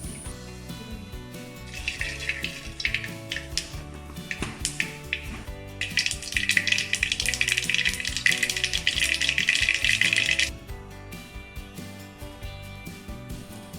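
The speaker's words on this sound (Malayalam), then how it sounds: "കടുക് പൊട്ടി വരുമ്പോൾ" Mustard seeds splutter in hot coconut oil in a pan while tempering for kovakka thoran: scattered sharp pops and crackles that swell into a dense, busy spluttering burst for several seconds before thinning out again.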